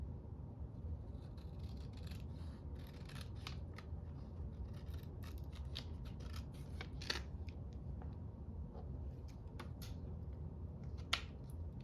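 Scissors trim a thin white edge off collage paper, making soft, scattered snips and crisp little cuts over a faint steady background hum, close and quiet with no talk.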